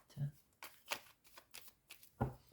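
A deck of tarot cards being shuffled and cut during a daily reading, with crisp riffling bursts and soft slaps close by, mixed with a woman's quiet speech.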